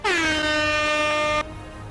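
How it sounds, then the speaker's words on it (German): A single loud, sustained air horn blast sounded to call a player during a Mordhau community tournament, holding a steady blaring tone for about a second and a half before cutting off abruptly. "Tröte geht raus."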